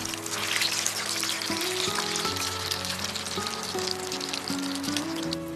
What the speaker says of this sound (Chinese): 然后把准备好的豆腐放进去炸